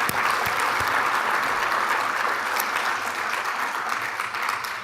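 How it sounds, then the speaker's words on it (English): An audience applauding podcast inductees at a Podcasting Hall of Fame ceremony, a steady, full burst of clapping from a roomful of people that tapers slightly toward the end. "Let's give a round of applause for them"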